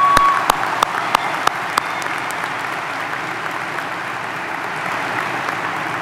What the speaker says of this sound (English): Please join me in giving these special guests a round of applause.